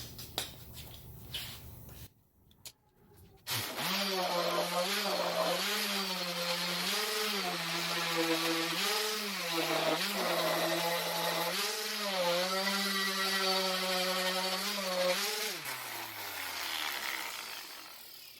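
A belt sander with 120 and 220 grit grinds a laser-cut metal logo held in alignment. The motor whines steadily and the pitch dips in repeated rhythmic waves under the load, then the machine winds down at the end.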